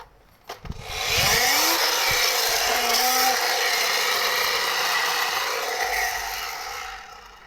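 A few clicks, then a loud, continuous buzzing whir from a small wind-up motor in a 1/24-scale toy four-wheel truck, running for several seconds and fading slightly at the end.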